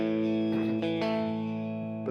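An electric guitar holds a sustained high note drenched in heavy reverb, rich and ringing, with a few soft pick or string noises partway through as the tone slowly decays.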